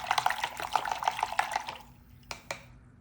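Water splashes and drips off a debridement instrument being rinsed during an apple demonstration, a brief run of close trickling and dripping followed by a couple of sharper splashes.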